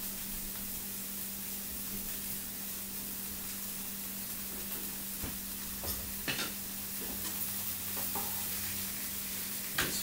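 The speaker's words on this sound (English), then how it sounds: "Just mix the salsa and the beans in together" Spoon stirring salsa, beans, olives and rice together in a bowl for a bean and brown rice dip, with soft scraping and a few sharper clicks over a steady low hum, no talking.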